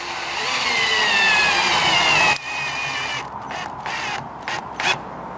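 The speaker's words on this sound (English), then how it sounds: "I'm just going to use decking screws, secure both ends, and a couple places in the middle." Decking screws being driven into plastic roofing on a DIY chicken tractor build: a loud, whining power driver runs continuously, then stutters in several short bursts as the screw seats, close and without talking.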